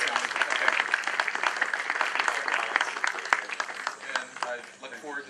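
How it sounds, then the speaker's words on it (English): Audience applause at a university speech event, steady clapping under a murmur of voices that fades toward the end as someone begins speaking. "please stand up and big applause to him."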